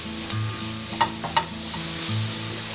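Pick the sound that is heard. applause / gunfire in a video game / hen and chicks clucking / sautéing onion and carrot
sautéing onion and carrot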